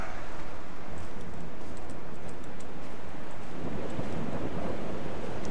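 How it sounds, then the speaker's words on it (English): Steady, loud wind roars without pause in the video game Dear Esther, a dense rushing noise with no voices over it. "Very windy."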